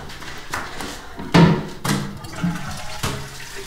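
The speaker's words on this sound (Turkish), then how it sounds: "Bunun gene sifonu çekmemişsin." A toilet flush in a bathroom comes as a series of loud, abrupt whooshing bursts of rushing water spaced about half a second apart, with quieter watery noise between them and no talk.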